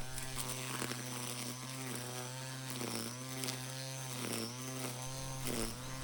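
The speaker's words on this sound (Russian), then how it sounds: "Триммер просто идеален для скоса травы возле бревен." A string trimmer cuts grass around logs at the base of a woodpile, its small engine giving a steady, loud buzzing whine that dips and recovers every second or so as the line bites into the growth.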